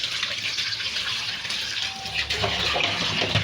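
Water gushes steadily from a tap over raw meat being rinsed in a sink, a continuous close splashing flow with some clatter near the end.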